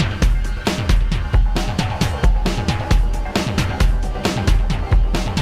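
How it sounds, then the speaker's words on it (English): A custom drum kit programmed on a Deluge groovebox plays a steady looping pattern. Punchy kicks and snappy hits repeat in a tight, even rhythm, loud and alone. "we went on the Deluge and we made our own custom kit and built up a drum pattern"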